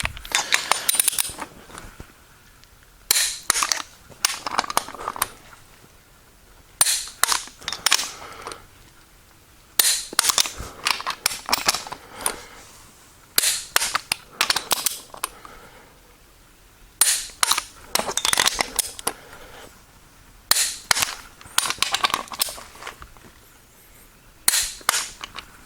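Torque wrench clicking repeatedly as engine bolts on a 351C V8 build for a 1970 Mach 1 are tightened in stages to 70 foot-pounds; sharp, close clicks come in irregular bursts separated by short pauses.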